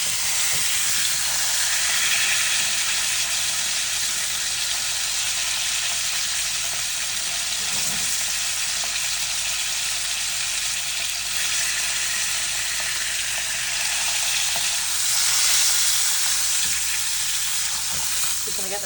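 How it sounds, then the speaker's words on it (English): Beef sears in a hot pan with a loud, steady sizzle and hiss, while stirring adds faint scraping and small crackles; the frying continues without pause. "Just going to give this top side a little stir."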